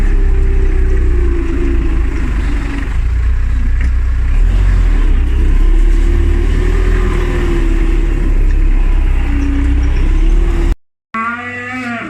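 A Belarus tractor pulling a feed wagon drones loudly and steadily with a wavering mid-pitched hum. The sound cuts out abruptly near the end before a brief rattling tone.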